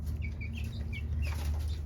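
Chickens in a coop give soft, scattered clucks and short calls over a steady low background hum, moderately close.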